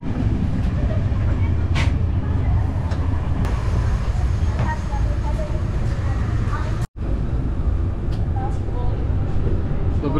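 A passenger train in Slovakia rumbles and rattles steadily from inside the carriage, with scattered clanks and a brief drop-out partway through, while voices murmur in the background.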